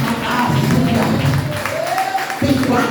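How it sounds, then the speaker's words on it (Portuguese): A church congregation claps their hands in worship, a dense, continuous patter of many hands under a voice speaking over it. "Exalta Jesus com palmas."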